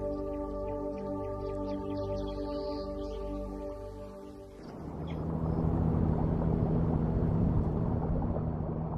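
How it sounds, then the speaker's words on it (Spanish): Motorboat engine on a river where crocodiles bask, its broadband roar cutting in midway and holding steady and fairly close, after a first half of steady tonal hum. "Al oír el ruido del bote"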